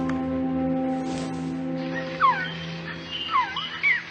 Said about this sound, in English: What is that? A Quetzal? The phoenix bird.